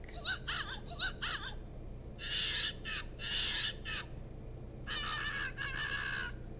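The electronic sound chip inside a Marmoset plush from Angry Birds Rio plays shrill, chattering monkey calls in three separate bursts, fairly close and clear over a quiet background hum.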